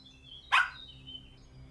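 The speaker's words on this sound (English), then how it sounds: "I bark a warning." A dog gives a single sharp warning bark, short and moderately close, against a quiet background.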